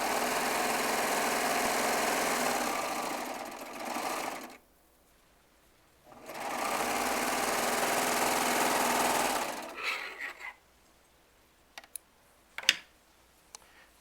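A Baby Lock serger stitches jelly roll, layer cake and charm quilting squares in two steady, loud whirring runs of about four seconds each, split by a short pause and followed by scattered sharp clicks and handling taps.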